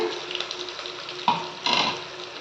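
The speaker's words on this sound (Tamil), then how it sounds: "ஒரு 4 பச்சை மிளகாய், வெங்காயம் வந்து பார்த்திங்கன்னா நல்லா வதங்கணுங்க" Onions and green chillies with curry leaves sauté in a pan, a close, steady sizzle with a couple of louder bursts of stirring, no voices.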